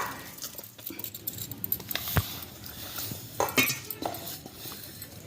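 Jaggery being stirred into a pot while making karijelu sweets, heard as scattered metallic scrapes and clinks of a spoon against the pot, with one sharper knock near the middle and no talking.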